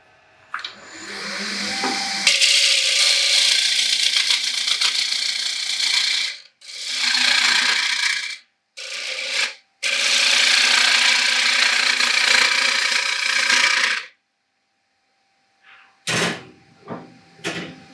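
A wood bowl spinning on a lathe while a cutting tool finishes a pass, giving a rough, scraping, ratcheting whir in several long sustained stretches broken by short pauses. It sounds loud and close, then fades to near silence before a few faint knocks.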